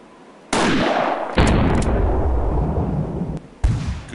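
Three loud hunting-rifle shots in the video game Hunting Unlimited 2011, each a sharp crack with a long rolling echo. The second shot follows closely after the first, and the third comes after a pause.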